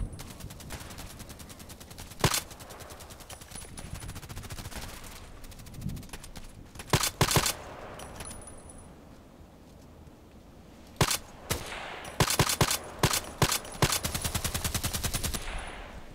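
Gunfire from a Glock 18 pistol in a video game: single shots and rapid bursts in irregular clusters, fairly close and loud, with quieter stretches between volleys.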